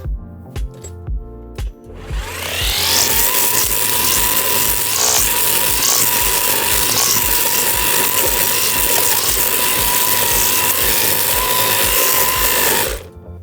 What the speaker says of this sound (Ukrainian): Двигун не зупиняється, не відчуває якогось надмірного навантаження, скошує, все йде суперово